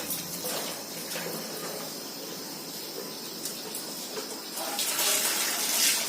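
Rice being washed in water, with a steady rush of running tap water and swishing splashes that grow louder toward the end, close by and without speech.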